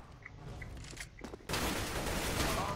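Gunfire in the video game CS:GO, a few scattered shots followed by a sudden sustained burst of rapid automatic fire, loud and dense over the game's background.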